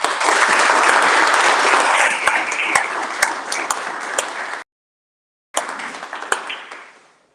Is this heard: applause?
yes